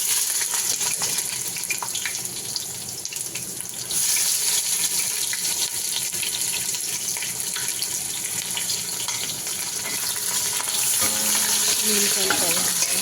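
Whole spices crackle and sizzle in hot oil in preparation for dum biryani, a dense continuous frying hiss with scattered pops that swells louder partway through, with no voices.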